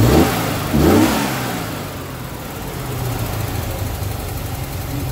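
A Triumph TR6 engine fitted with new electronic ignition blips its throttle twice, then settles into a steady, smooth idle, close and continuous with no talking.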